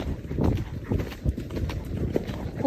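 A bouncy horse canters along, its hooves drumming in a quick, uneven rhythm close by over a rough, noisy background.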